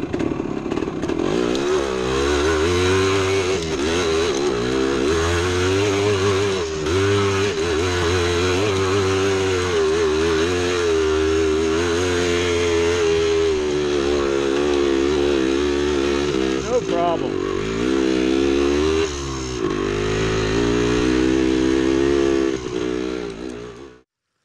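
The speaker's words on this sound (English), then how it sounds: "We got a tricky hill climb out of here. First gear, and it approaches real slow." A 1975 Yamaha DT250 two-stroke dirt bike climbs a rooty woods hill in first gear, its engine droning loud and close with a buzzy, rising and falling tone as the throttle shifts, running nearly the whole time.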